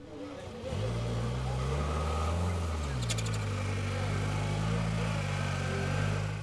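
A Formula off-road car's engine at the Hankook 4x4 Extreme Challenge at Steineck, 2018, roars up loudly after a brief quiet start, then holds a strong, steady drone with slight pitch shifts as it works through an obstacle.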